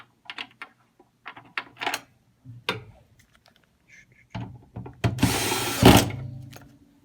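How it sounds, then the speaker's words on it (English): Screws driven back in while reassembling an SW series unit after calibration, a run of short close clicks and ratcheting turns, then a longer loud buzzing whir from a power driver near the end. "make sure we get the screws back in the right place"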